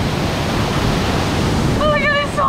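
A large waterfall in Samboan, Cebu roars as a dense, steady rush of falling water close by, with wind buffeting the microphone and a brief voice near the end.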